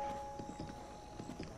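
A horse's hooves clip-clop in Zelda: Breath of the Wild, a quick run of soft, evenly spaced steps at a moderate distance over a faint steady hum.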